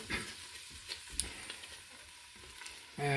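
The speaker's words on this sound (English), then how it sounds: "Okay, and now I'm going to stir it all up." Baked bean sauce and hot dogs get stirred in a Ninja Foodi, soft scraping stirs over a low simmering sizzle, quiet and close.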